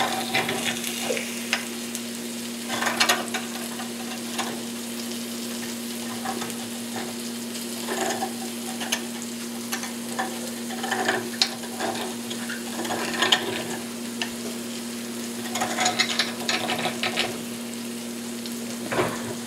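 Quail eggs frying sunny side up in a pan give a steady, close sizzle and crackle with scattered pops and small scraping clicks, continuing without speech.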